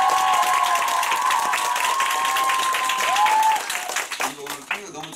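A large audience at a Nu Skin group gathering claps in a dense, sustained round of applause, with a ringing tone running over it. The clapping fades into scattered claps and voices at the end.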